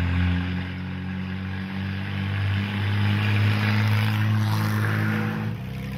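A 1951 Studebaker Champion engine with dual exhaust idling close by, a steady deep droning rumble that swells slightly midway and stays loud throughout, with no voices.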